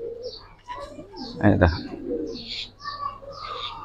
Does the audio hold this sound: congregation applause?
no